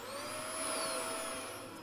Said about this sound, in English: Okay, where's my vacuum?